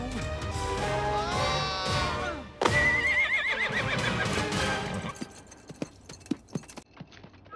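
A horse whinnies loudly, then neighs again, and hooves clip-clop on a hard surface.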